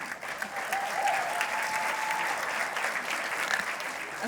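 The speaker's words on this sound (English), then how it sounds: "You should give a round of applause for them." Teachers being honored at an awards gala get a round of applause from a large crowd, with even, sustained clapping heard moderately far off and a faint voice briefly underneath.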